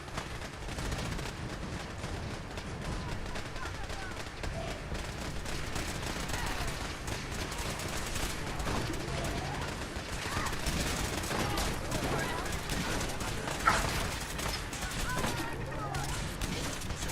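Dense, continuous gunfire and fusillade bursts from Fallout 4 combat, a steady barrage of shots filling the whole stretch with players talking over it.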